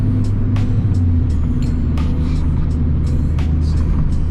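Steady loud engine and exhaust drone from a moving Ford Focus ST, low and constant, with occasional wind buffets and clicks over it on a cold, windy day.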